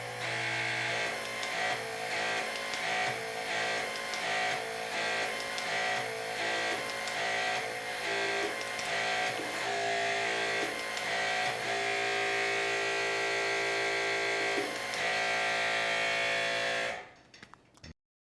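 HYTORC MXT hydraulic torque wrench driven by a vector pump, a loud steady mechanical whine and hum with repeated pulsing cycles, ending abruptly near the end.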